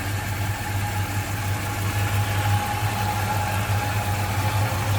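A 1968 Dodge Coronet 440 with a smooth-running 383 V8 idles steadily and close by, a deep even rumble with a faint whine above it and no voices.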